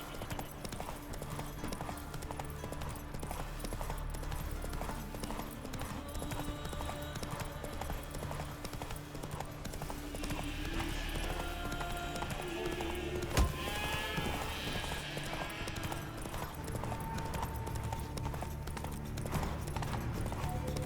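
Horse hooves clip-clopping at a steady gallop in The Witcher 3: Wild Hunt, a continuous rhythmic drumming under game music and ambience, with one sharp louder hit partway through.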